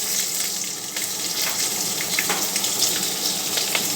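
Dried red chillies and bay leaves tempering in hot oil in a wok for a vegetarian taro greens dish, a dense close crackling sizzle that runs without a break, with a few small pops.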